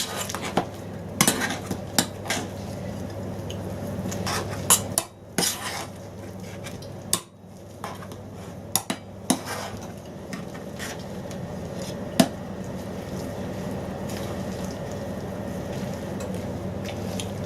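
Boiled potatoes mashed with a little milk in a metal pan for cottage pie, a busy run of scraping, knocking utensil clatter and soft squishing, close and fairly loud.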